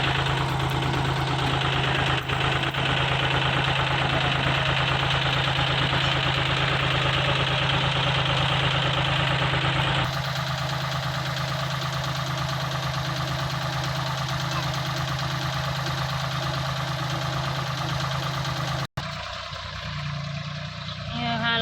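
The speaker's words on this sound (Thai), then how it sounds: "ก็รถไถมาแล้วนะคะ" A tractor engine runs steadily in a vegetable field, a loud constant idling drone with a knocking rhythm that shifts tone partway through and drops off near the end, with someone talking over it.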